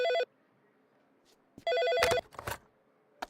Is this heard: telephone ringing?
yes